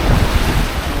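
Low surf washes in at a shallow, kid-friendly beach in La Union as a broad, loud rushing that runs on without a break, buffeted by heavy wind on the microphone.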